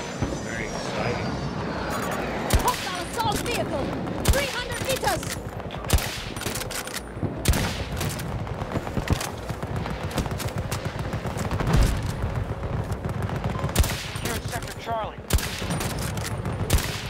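Dense, continuous gunfire in the shooter game Battlefield 2042, with rapid bursts and sharp cracks crowding the whole stretch, heavy and close throughout, with a voice speaking briefly under the shooting.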